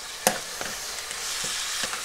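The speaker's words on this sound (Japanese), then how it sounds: "これで油で炒めて、まあ一応火を通すという感じですかね。" Pork belly fries in oil in a pan, a close, steady sizzle broken by a sharp clack near the start and a few soft stirring scrapes, with no talking.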